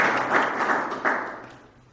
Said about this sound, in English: A round of applause for my opponent.